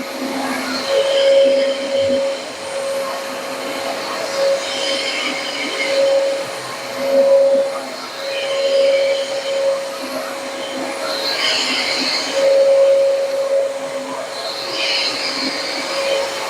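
Mid-priced vacuum cleaner running steadily with a broad whooshing hum and no high-pitched squeal, its level swelling and easing as it is pushed and turned, heard alone without talk.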